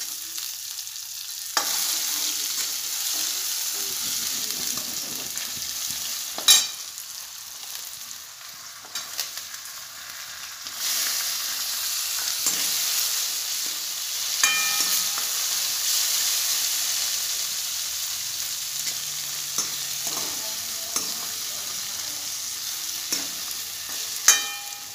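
Onion fries in a pan with tomato for ridge gourd sabzi, giving a steady, close sizzle for the whole stretch. Occasional scraping stirs and light clinks sound over the hiss.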